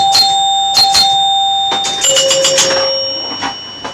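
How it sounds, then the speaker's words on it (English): Chime bars on a Gottlieb 4 player pinball machine ring out in a quick series of bright, sustained tones, several strikes in irregular bursts, loud and close with ringing decay between hits. "They sound good, those chimes,"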